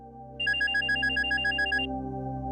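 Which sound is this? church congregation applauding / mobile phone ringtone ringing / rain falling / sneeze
mobile phone ringtone ringing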